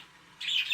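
Pet birds chirp in the background indoors, a brief burst of faint, high twittering rising out of quiet room noise.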